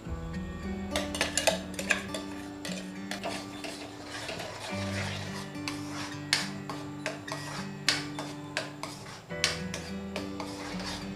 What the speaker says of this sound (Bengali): এবার আমি যে আমের পেস্টটা বানিয়ে রেখেছিলাম সেই পেস্টটা আমি কড়াইয়ে দিয়ে ভালো করে নেড়ে নেব।